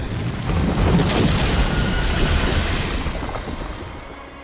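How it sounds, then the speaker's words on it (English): A dragon breathes a sustained roaring gout of fire to burn enemy banners on a beach in Dragon Age: The Veilguard, a broad rushing blast that swells, holds and slowly tapers off. "What does it feel like when you breathe fire like that?"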